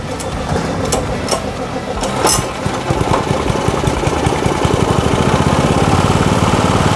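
A small water pump engine starts up and settles into a steady, near, loud chugging idle with rapid regular firing pulses after a few brief cranking attempts.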